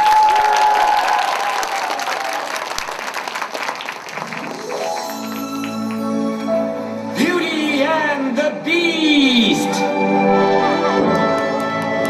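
Audience clapping at a children's school performance of a musical, applause swelling and carrying on steadily, joined partway through by music and a voice over the clapping.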